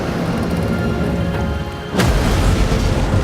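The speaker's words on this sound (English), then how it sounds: "when this huge ship capsized, a monstrous explosion erupted" Deep rumbling roar of the battleship Yamato capsizing, then a sudden sharp blast near the midpoint as a monstrous explosion erupts, followed by a heavier, louder rumble that carries on to the end.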